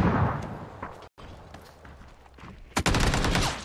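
Loud, rapid bursts of automatic gunfire in a shooter video game crackle almost continuously, with a brief gap, then a sharper, denser volley near the end.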